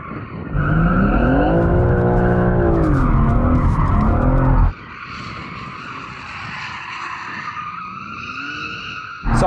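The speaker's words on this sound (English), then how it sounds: "Oh, let's warm the tyres first though." Tyres spinning hard to warm up on a Porsche 911 Turbo S switched into rear-wheel-drive mode for a drag race: loud, sustained engine roar with squealing rubber, a brief drop, then continued wheelspin before revving surges again.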